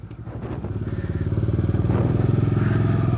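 A manual motorcycle engine idles in a steady throb while the throttle closes and the clutch is pulled, its pulsing thrum growing louder and rougher toward the end, close by and without talk.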